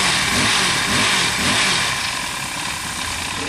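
A four-stroke engine on a motorized bicycle runs close by in a continuous buzzing drone that swells slightly before easing off.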